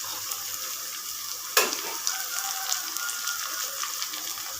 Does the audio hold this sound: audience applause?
no